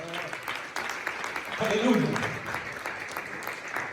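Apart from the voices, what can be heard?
church congregation clapping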